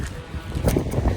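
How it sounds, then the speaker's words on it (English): Strong wind blowing outdoors during a van trip across France, a steady rough rumble with gusty surges that grow louder toward the end. "It's got very windy, but it's nice."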